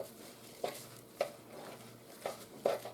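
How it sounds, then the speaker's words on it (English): Thick peanut butter cookie dough being folded with oats by hand: four soft, damp scraping pulls spaced about half a second to a second apart, close and quiet against a faint steady background hum. "So you just want to fold it until the oat and the mixture mixes well."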